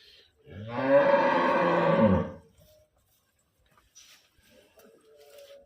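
A single loud, deep low from a Nili-Ravi water buffalo lasts about two seconds, followed by quiet with faint distant sounds.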